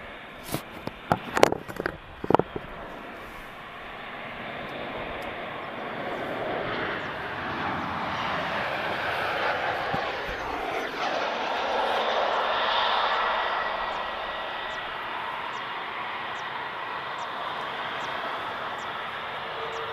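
Air Europa airliner touching down at Lisbon Airport, a broad steady jet roar that builds and swells to a peak midway and holds, preceded by a few sharp knocks near the start.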